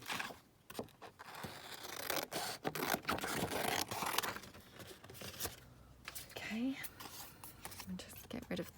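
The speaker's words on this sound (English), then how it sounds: "so, right, let me just cut this one down." Scissors cut a paper postcard envelope, making crisp snips and scraping paper rustles in an uneven rhythm close by, under a person talking.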